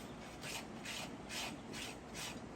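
A horse's hoof sole being trimmed gives faint, rhythmic rasping strokes, about six even scrapes in quick succession, quiet and close with no talk.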